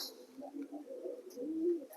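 A pigeon, a blue satin bird at a loft, coos softly and continuously at close range for about two seconds, with a few faint higher chirps.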